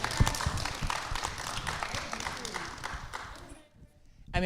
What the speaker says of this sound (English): Clap it up for that, y'all